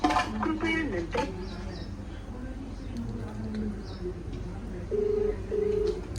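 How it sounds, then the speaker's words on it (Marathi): A mobile phone call's ringback tone sounds twice in short, steady electronic pulses near the end, after a voice talks over faint background noise and birds. "आत्ता व्यस्त सांगलं होतं पण आता फोन लागलाय"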